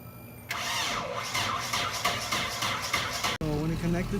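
A Nissan 240SX car engine cranks briefly, catches, and settles into a rough idle, heard close by while someone speaks faintly under it.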